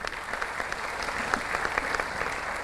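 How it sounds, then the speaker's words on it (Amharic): An audience claps warmly for student contestants at a school quiz competition in Arba Minch, a dense, steady round of applause from a room full of people, close and sustained throughout. "እባካችሁ ለተወዳዳሪ ተማሪዎች ሞቅ ያለ ጭብጨባ አድርጉልን።"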